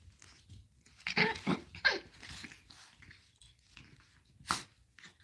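Chihuahua puppies play together, giving soft, close growls, snuffles and breathy huffs in short bursts against a quiet room.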